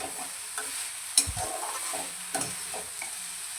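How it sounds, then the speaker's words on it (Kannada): Grated coconut frying in bitter gourd masala over a low flame gives a soft, steady sizzle, broken by spatula scrapes against the pan, one sharper scrape standing out, close and quiet with no voices. "ಕಾಯಿ ತುರಿ ಹಾಕಿ ಲೋ ಫ್ಲೇಮಲ್ಲಿಟ್ಟು ಸ್ವಲ್ಪ ಫ್ರೈ ಮಾಡ್ಕೊಳ್ಳೋಣ"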